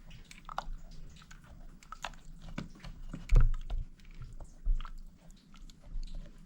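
Boiled vegetables for pav bhaji mashed in a pot, squishy, thudding presses and scrapes repeating close at hand in an uneven rhythm, with no talking over them.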